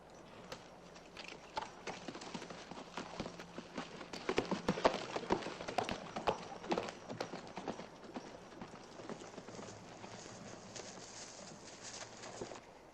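Horses' hooves clatter in a Wild West scene, a quick, uneven clip-clop building to a busy, close flurry of hoofbeats before easing off into a softer, ongoing patter.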